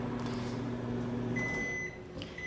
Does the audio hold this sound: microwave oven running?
yes